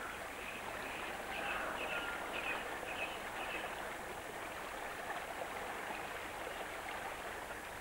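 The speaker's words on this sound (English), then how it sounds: "even the narrowest brook can be seen to get wider as it makes its way down the valley" A narrow brook flows down a valley with a faint, steady babbling rush of water, continuous and unbroken, with no voices.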